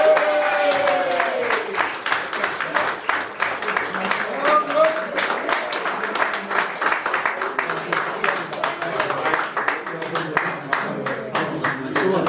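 An audience at an end-of-season awards presentation cheers and applauds for a prize winner, with dense, steady clapping throughout and scattered voices rising over it.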